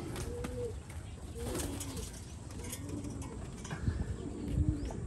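Pigeons coo softly in repeated low calls outdoors near a rooftop loft, with faint background noise and some rustling.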